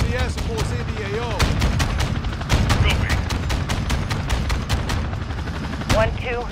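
Heavy, sustained gunfire in Call of Duty Modern Warfare II during an intense firefight, with rapid loud shots and heavy booms in close succession while voices talk over the battle.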